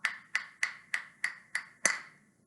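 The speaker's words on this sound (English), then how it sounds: "I'm going to use my tapping sticks next." Wooden rhythm sticks tapped together seven times in a steady even beat, crisp bright clicks close up with short decays, the last one slightly stronger.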